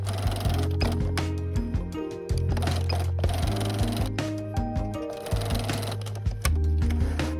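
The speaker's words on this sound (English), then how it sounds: "Sew along both angled sides and across the top, leaving about a 2 inch opening in the middle" A sewing machine stitches a small fabric bow keychain, a close, loud, rhythmic whirring hum that starts and stops in several runs, with short pauses between bursts.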